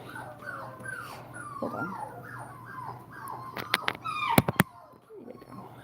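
A Toller puppy whimpers and yips through its first bath, high thin whines rising and falling close by while a person talks softly over it, with a few sharp clicks near the end.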